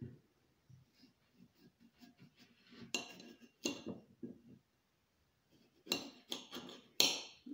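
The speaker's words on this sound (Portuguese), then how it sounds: "Vou estar picando para depois a gente fazer um espetinho." A knife chops persimmon on a cutting board in a kitchen. Soft, quiet, irregular taps give way to sharper, louder clacks in small bursts, with pauses in between.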